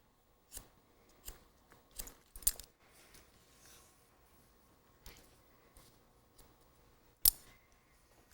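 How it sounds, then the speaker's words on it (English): Hairdressing scissors snip through hair during a classic bob cut, giving scattered crisp, close snips with quiet pauses between them and one louder snip near the end. "I'm going to look for my guide and cut."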